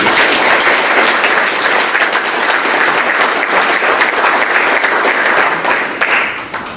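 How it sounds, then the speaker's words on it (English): An audience at a city's State of the City address applauds the volunteer fire department, a dense, loud burst of many hands clapping that holds steady for several seconds before tapering slightly at the end. "please join me in giving the volunteer fire department a round of applause for this"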